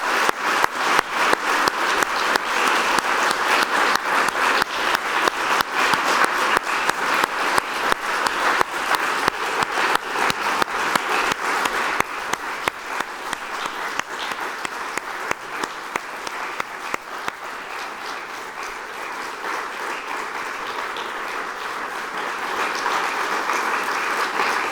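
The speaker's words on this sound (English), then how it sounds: "Please give both scholars a round of applause." An academic audience at a university year-opening and honorary doctorate ceremony applauds two honoured scholars, long sustained rhythmic clapping that begins strong and gradually thins and softens toward the end.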